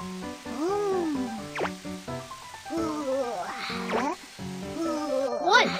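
Cartoon water sound effects while a meerkat gets a bath: bubbly, dripping, sliding squishes come in short bursts, mixed with playful character voices talking.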